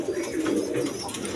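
Pigeons coo softly in a steady, rolling murmur, close by and unbroken over the short stretch.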